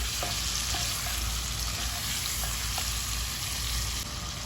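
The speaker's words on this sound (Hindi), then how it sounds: "गोश्त के साथ थोड़ा सा प्याज मिक्स होगी, उसके बाद इसको 2 मिनट भूनेंगे हम" Mutton and onion frying together in a pan, a steady dense sizzle holding at an even level throughout, with a few faint stirring clicks and no voices.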